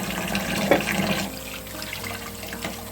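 Water running steadily into a tub with Zote soap, a continuous rushing splash, fairly loud and close, with a brief heavier gush early on.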